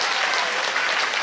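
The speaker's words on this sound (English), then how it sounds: "Let's give everyone another big round of applause." Audience at a kindergarten graduation performance giving sustained applause, a loud, dense and unbroken patter of many hands clapping together.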